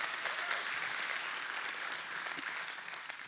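Steady applause from a church congregation for their pastor, a dense wash of many hands clapping at even loudness throughout, with no voices standing out.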